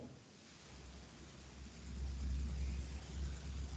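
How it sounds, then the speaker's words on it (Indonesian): Soft, steady rain falls in the background, a faint continuous hiss with a low rumble that swells slightly partway through, with no voices. "di sini sedang hujan"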